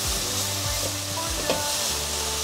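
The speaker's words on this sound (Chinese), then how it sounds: "把调味料炒匀" Cauliflower rice stir-fried in oil with salt and white and black pepper, a loud, steady close sizzle with a spatula scraping and tossing the pan.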